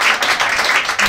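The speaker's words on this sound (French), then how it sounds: "J'aimerais qu'on fasse un maximum de bruit s'il vous plaît pour Salomé Partouche qu'on applaudit." A short burst of audience applause at a French stand-up comedy show, dense loud clapping from a packed room lasting about a second.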